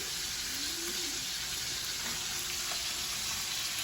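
Steak sears in a pan with garlic butter and thyme, giving a steady, soft sizzle and crackle that runs evenly throughout with no voice over it.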